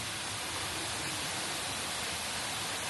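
A small waterfall beside a rice field in Ubud pours in a dense, even hiss of rushing water, close and constant with no other sounds.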